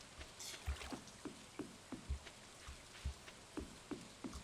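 Rain falling in the farming game Stardew Valley: a faint, steady soft hiss with a regular series of light thuds stepping through it, quiet and even throughout.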